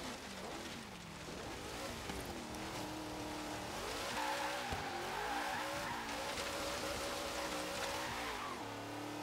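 A 1972 Chevrolet Nova with a heavily upgraded, very large V8 in an autocross racing game, its engine roaring and revving continuously while tires squeal through oversteer, loud and close throughout.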